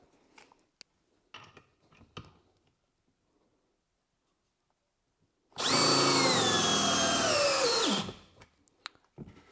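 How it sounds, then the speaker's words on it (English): A Milwaukee cordless drill, model 3602, bores through wood in one loud, sustained burst of about two and a half seconds, its whining pitch sagging as the bit labours, then cutting off, with quiet handling clatter before and after. "Now we will do the Milwaukee drill."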